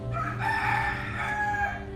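A rooster crows loudly and close by in one long, sustained cock-a-doodle-doo with a strong harmonic tone that fills the whole moment, with no voices.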